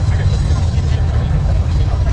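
A car engine idles nearby at the SEMA Cruise 2022 car event with a steady, deep rumble that holds unchanged throughout.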